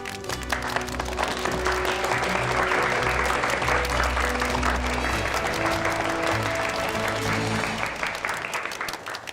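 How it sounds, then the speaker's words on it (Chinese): A room of students bursts into steady, dense applause for two classmates, sustained and loud across the whole stretch beneath music-like tones, tapering slightly at the end. "我为什么要给这2位同学鼓掌？"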